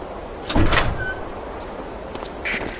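A door being opened in the World War II shooter Medal of Honor: Allied Assault, a short loud mechanical clunk and slide followed by fainter scraping and a brief squeak at the end.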